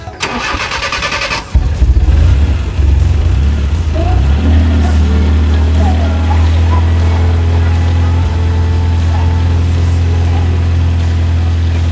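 A vehicle engine cranks on its starter during a battery current-leakage check, then catches and settles into a loud, steady idle close by.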